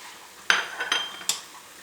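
Crumbled bacon stirred in a pan with a utensil, three sharp metallic clinks and scrapes close by, spaced a fraction of a second apart over quiet background.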